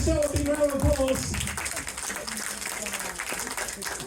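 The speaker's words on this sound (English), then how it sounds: "So give Michelle a big round of applause" A hypnosis convention audience applauds a first-prize winner, with dense clapping spread across the hall and a voice talking over the start before the clapping thins and continues more softly.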